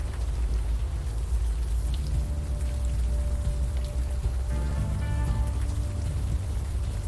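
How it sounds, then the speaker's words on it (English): Steady rain in the video game Unavowed, a constant close hiss with a low rumbling bed underneath, playing alone without talk and with a faint tonal hum partway through. "It seems to be raining quite a lot."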